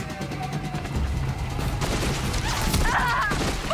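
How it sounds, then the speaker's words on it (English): Rapid, continuous Gatling gun fire in Horizon Zero Dawn rattles loudly and up close for the whole stretch, with crashing impacts and brief whooshing effects layered over the sustained burst. "Gatling gun."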